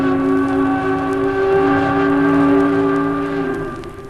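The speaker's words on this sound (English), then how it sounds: "In Ukiah, you'll hear the whistle of the masonite plant." A masonite plant's factory whistle at a pressed-wood mill in Ukiah sounds as one long, steady, loud tone lasting about four seconds before it fades.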